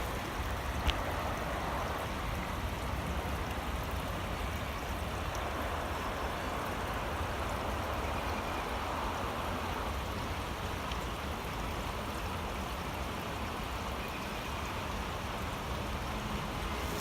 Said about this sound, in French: Tout petit mini ruisseau.